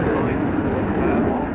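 A Polish Air Force MiG-29 fighter jet at the RIAT 2016 airshow, its steady broad engine roar loud and continuous while a commentator talks over it.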